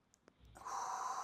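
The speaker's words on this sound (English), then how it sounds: "Deep breath in." A deep breath in during a movement and breathing exercise: a few faint sniffs, then a steady airy inhale building for over half a second, close and quiet.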